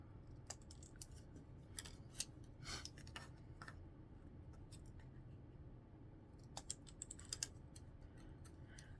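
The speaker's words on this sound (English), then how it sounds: "what I'm going to do is cut all my straws" Scissors snip craft straws at an angle while a straw wreath is being made, giving scattered, faint, crisp clicks at irregular intervals over a quiet background with no talking.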